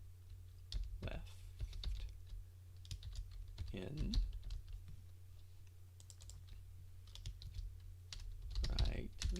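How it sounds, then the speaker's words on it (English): Typing on a computer keyboard, close and fairly quiet, comes in irregular bursts of key clicks while a person talks faintly now and then over a low steady hum. "yeah, typing."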